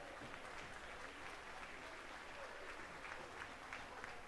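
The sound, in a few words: applause for heavyweight lambs at a livestock show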